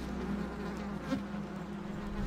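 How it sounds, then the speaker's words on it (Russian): Flies buzz in the video game Gothic, a steady low drone that hovers nearby for the whole stretch, with no talking over it. "Ой, мухи."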